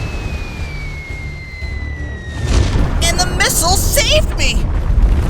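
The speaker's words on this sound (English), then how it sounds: "They sent out a missile to Pluto," A cartoon missile strike rings out with a descending whistle, then a loud booming explosion with crackling bursts, partly under an animated voice talking.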